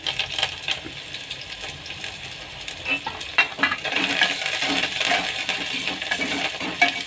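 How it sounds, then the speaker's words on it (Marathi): Finely chopped onion sautéing in oil for dal tadka, a soft steady sizzle and crackle with occasional light stirring scrapes, faint and close, no talk. "मंदाचेवर छान कांदा आपला परतू द्यायचा आहे"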